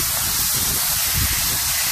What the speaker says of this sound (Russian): Наша черемша начинает жариться